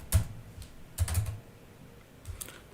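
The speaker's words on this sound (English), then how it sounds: "Just type Xilinx" Computer keyboard typing, heard as a few short, close bursts of keystrokes separated by pauses in a quiet room.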